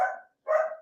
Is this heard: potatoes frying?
no